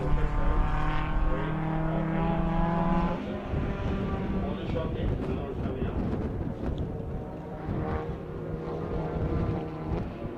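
An N4 Autocraft Honda Civic race car runs on circuit at the Phakisa 200, a loud steady engine drone with harmonic tones shifting pitch, a commentator talking over it throughout.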